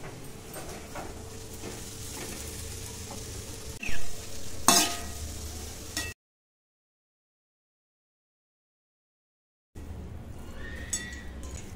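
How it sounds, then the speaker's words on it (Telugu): Cooked rice being stirred into a lemon tempering for lemon pulihora, giving soft scraping and tossing sounds in a pan. The stirring breaks off into silence and then resumes more quietly. "రైస్ వేసుకొని కలుపుకుందాం."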